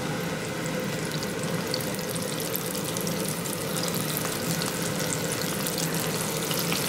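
Scallops fry in a pan of hot oil at about 300 degrees, a dense, even sizzle with crackling pops that holds steady and close throughout, with no talking over it.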